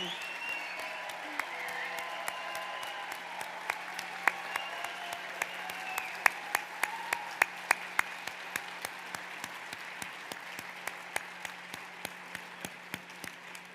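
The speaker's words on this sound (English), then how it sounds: "Look around, you have a standing ovation." Standing ovation from a commencement ceremony crowd at the West Virginia School of Osteopathic Medicine, a steady, dense wash of clapping that carries on throughout, with sharper individual claps cutting through near the end.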